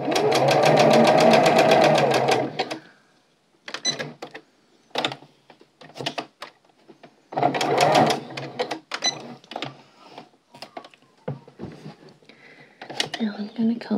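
Sewing machine top stitching around the edge of a mini cross-stitched quilted board, made as a Nine Men's Morris game; two close, dense bursts of stitching alternate with a person talking.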